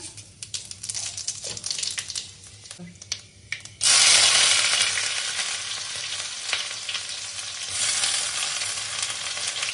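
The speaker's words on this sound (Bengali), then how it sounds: "এখন তরকারিটা বসিয়ে দেওয়ার জন্য তেল দিয়ে দিলাম, 5 ফোড়ন দিয়ে দিলাম" Five-spice seeds tempering in hot oil in a wok for a prawn, potato and snake gourd curry, crackling quietly then erupting into a loud, steady sizzle that surges again later.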